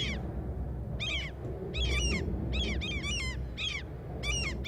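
Birds in the city-building game Cities: Skylines chirp and caw repeatedly in bursts of quick calls over a steady low background hum of traffic and ambience, with no talk.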